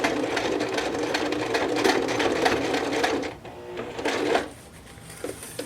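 A sewing machine zigzag-stitches the edge of thick denim jeans in a fast, rattling run of needle strokes lasting about three seconds. After a pause comes a short second burst, close and clear.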